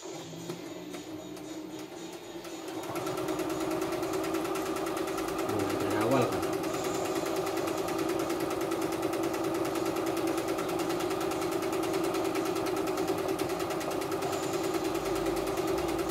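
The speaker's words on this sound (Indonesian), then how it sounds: "Seperti itu cara bikin jahitan lubang kancingnya." A CNY E960 multifunction embroidery machine sews a buttonhole, starting after a quiet moment into a steady, rapid mechanical whirring that continues evenly at close range, with a voice talking over it.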